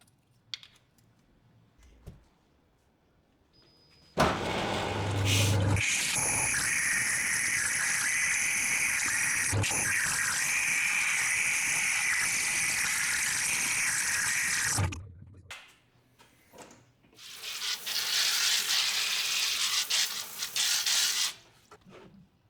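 A Wazer waterjet cutter slicing a brass washer gives a loud, steady high-pitched hiss for about ten seconds, then stops and returns for a shorter rougher burst amid clicks and handling noise.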